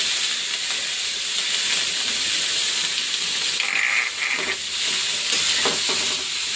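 Green chillies tossed into bitter gourd frying in a pan, giving a steady broadband sizzle and hiss with occasional stirring scrapes, close and continuous with no talking.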